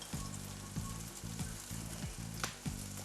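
Ginger dropped into a not-yet-hot frying pan while cooking goat biryani, giving a soft, steady sizzle with a few quick stirring scrapes and light knocks repeating at a regular pace, quiet and close with no talking.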